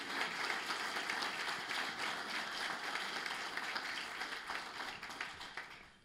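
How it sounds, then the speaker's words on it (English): An audience at an awards dinner claps steadily, a dense fairly distant round of applause that holds for several seconds and tapers off at the end. "if we could all give them a round of applause right now"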